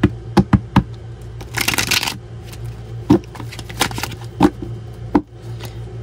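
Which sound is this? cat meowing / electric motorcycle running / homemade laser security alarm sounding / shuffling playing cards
shuffling playing cards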